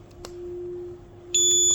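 A Vision UK wireless addressable fire alarm system goes off after a smoke detector is triggered. A steady electronic tone hums, then a loud, shrill, piercing multi-tone alarm cuts in near the end.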